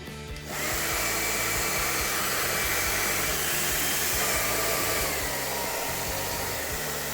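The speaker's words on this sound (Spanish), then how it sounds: "ya puedes volver a secártelo con tu secador" A repaired hair dryer switches on after a brief quiet start and then runs steadily, a loud continuous whooshing airflow with motor hum that holds constant to the end, with no talking.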